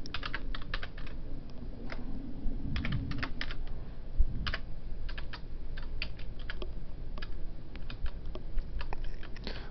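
Close, steady typing on a computer keyboard, quick bursts of key clicks with short pauses, moderately quiet and alone with no talking.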